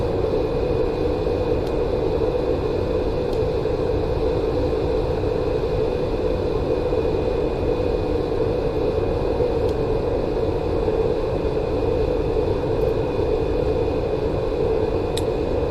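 Steady engine drone and rumble inside an MD-80 airliner in X-Plane 11 as it slows, a constant broadband roar with a persistent hum and no speech.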